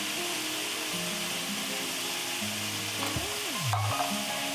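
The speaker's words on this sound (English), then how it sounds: "Stir it until the juice runs out." Kinpira with chili powder and sesame stirred in a frying pan, a continuous close sizzle with the rasp of stirring, while a soft tonal background hum slides and shifts underneath, no talk.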